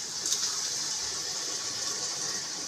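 Water poured into a pot of mutton curry for home-style biryani, a steady close gushing stream that runs unbroken and fairly loud throughout, with no voices.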